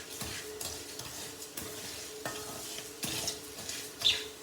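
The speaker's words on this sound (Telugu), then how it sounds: "కొంచెం ఆలంలోనే కొంచెం ధనియాలు, కొంచెం శనగపప్పు, కొంచెం మినప్పప్పు, కొంచెం జీలకర్ర వేసి ఇట్లా వేపుకోవాలి." Coriander seeds, chana dal, urad dal and cumin toasting in a little oil in a pan, giving a soft steady sizzle with repeated scraping and stirring strokes, fairly quiet and close, with no one talking.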